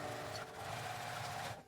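Sewing machine running steadily, stitching the edge of a quilted lunch bag, a continuous even whir with no talking.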